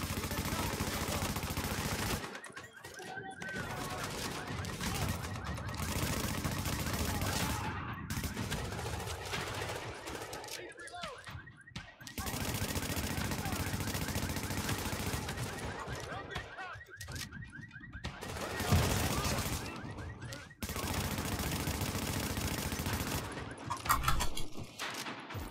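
Rapid bursts of gunfire from shooting enemies in The Division, a near-continuous volley of loud automatic fire in a solo Tier 5 landing-zone boss fight, broken by a few short pauses.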